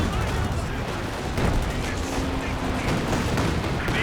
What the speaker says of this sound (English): But the Katyusha barrage coming in